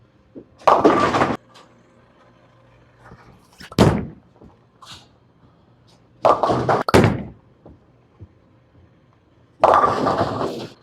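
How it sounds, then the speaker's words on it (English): Bowling ball bowled slowly with heavy revolutions down a lane, giving several loud rolling rumbles and thuddy impacts separated by quieter stretches, with a final burst near the end. "I'm going to throw it slow and crank on it and hope it hooks"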